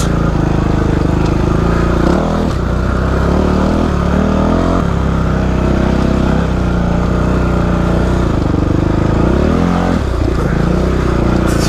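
An ADV motorcycle rides off-road up a rough climb. Its engine snarls loud and close, with repeated revving surges and drops, while scraping and clattering from the rough ground come through the noise.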